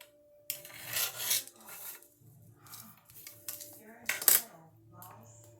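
Several short, raspy scraping strokes of a blade drawn across a stiff sheet, in uneven bursts with quiet gaps between, close and moderately loud.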